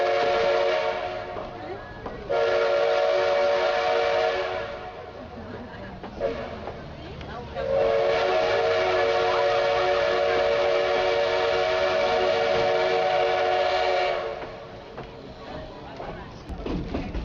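A steam locomotive on a Maria Fumaça tourist line between Rio Negrinho and Rio Natal runs along while its whistle sounds in two long sustained blasts, with someone talking over the rolling train.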